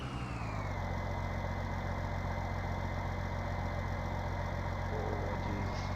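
A tractor engine in Farming Simulator 19 reversing a rear-steer trailer, a steady, loud, droning hum that holds constant throughout with no voices.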